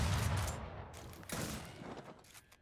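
Shotgun blasts in a video game, a heavy boom at the start and another near the middle, each with a noisy decaying tail, loud and close with no talk.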